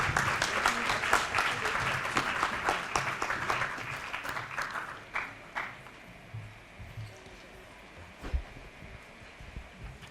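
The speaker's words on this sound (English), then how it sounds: "Ladies and gentlemen, please welcome her with a big applause." An audience at a formal evening event gives a guest speaker big applause, dense at first, then thinning into scattered individual claps that trail off to a few isolated ones.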